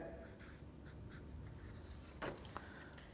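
Chalk scratching out an equation on a board during a lecture: faint, quiet strokes and taps in short bursts, with a brief louder scrape near the end, against a low room hum.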